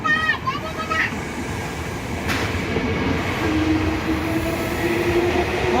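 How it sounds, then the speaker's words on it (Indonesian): A train pulling away and rolling past on the rails, a steady rumble with a faint wheel squeal, while a child and an adult chatter excitedly nearby. "Tuh jalan tuh kereta jalan, dadah."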